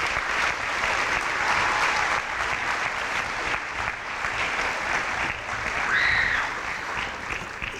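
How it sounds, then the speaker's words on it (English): An audience at a university event bursts into sustained, dense applause that holds steady for several seconds, with a brief whoop near the end and no talking. "So let's give Troy a great sound off"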